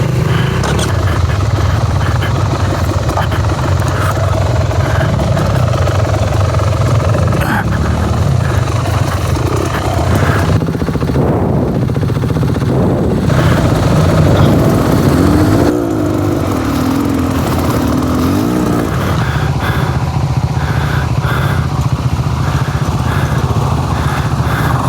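Dirt bike engines from KTM motorcycles drone loudly nearby while riding through a creek, a continuous rumble with shifting revs, varying pitch and some rough, splashy texture in the middle, with no voices.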